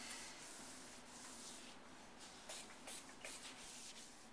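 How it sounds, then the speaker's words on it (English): Very faint, steady rubbing and wiping as a microfiber towel buffs sealer off a granite surface, with a few slightly louder strokes near the end and no talking. "Now we finished buffing off number 4 with the microfiber towel."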